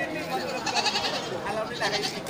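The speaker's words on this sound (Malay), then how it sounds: "ini juga banyak masuk kambing-kambing jantan dari jenis kambing kacang untuk digemukkan lagi." Kacang goats bleating at a busy goat market, several wavering bleats over the crowd's murmur, with someone talking throughout.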